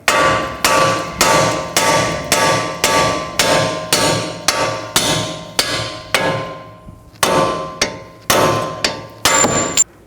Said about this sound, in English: Now take a hammer and just tap it out.